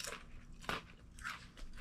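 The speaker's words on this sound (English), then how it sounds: "potato chips with a crunch." Barbecue flavor potato chips crunch in a few close, crisp bites, with a sharp crack near the middle and softer chewing crackles around it, no talking.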